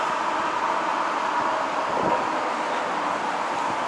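Steady broadband wind rushes outdoors in Busan, a constant close roar with gusting swells, no voices.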